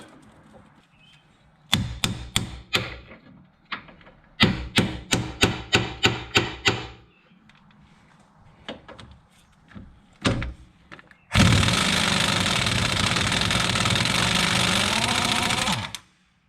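Pneumatic impact gun hammering a socket onto a Hyundai Santa Fe ball joint nut: several loud bursts of rapid rattling impacts with pauses between, then a long steady roaring blast near the end.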